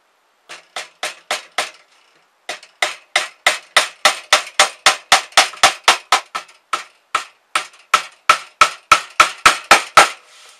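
Small tacks hammered into a wooden pirate chest lid, a long series of sharp, evenly spaced taps close by, with a brief pause after the first few strikes, then steady rhythmic hammering, no talking.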